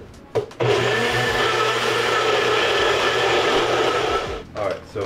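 A blender runs loudly and steadily for about four seconds while mixing a protein shake, starting with a short burst and ending in a few brief pulses, with nobody talking.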